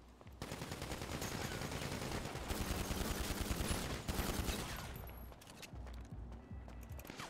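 Sustained automatic gunfire in the video game GTA 5, rapid dense bursts that carry on loudly for several seconds before thinning into scattered shots, with no talk.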